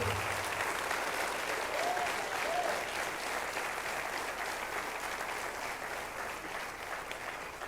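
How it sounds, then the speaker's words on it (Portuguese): A congregation in an auditorium applauds in a soft, even wash of clapping that stays steady and faintly distant throughout, with no clear breaks. "Aplauda o Senhor."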